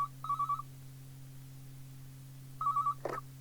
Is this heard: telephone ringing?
yes